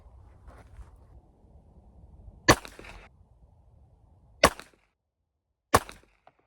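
Beretta Tomcat .32 ACP pistol firing Norma full metal jacket ammo: three sharp, loud cracks spaced a couple of seconds apart, with a quiet low rumble of background before the first shot.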